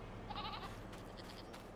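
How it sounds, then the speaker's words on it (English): Goats bleating in a farm pen in Farming Simulator 22, a few short, soft bleats in quick succession around the middle of the clip over a steady low hum, with no talking. "we've got goats"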